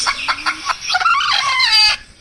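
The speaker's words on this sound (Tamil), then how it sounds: "கோழிய வெட்டும் போது கோழி பறந்து வந்துருச்சு தே." Squawking hen, up close and loud, bursts into flustered cackles with brief wingbeats as it flies off mid-slaughter, a continuous agitated outburst lasting about two seconds with no talk.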